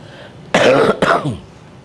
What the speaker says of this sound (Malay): cuma batuk je